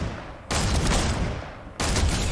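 Gunfire in the video game Fortnite: two loud, dense bursts of rapid shots, each lasting about a second, set apart by a short lull, close and with no talking.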